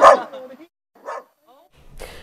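A small pet dog barks a few short, sharp times at close range, with quiet gaps between the barks and a brief scuffling noise at the end.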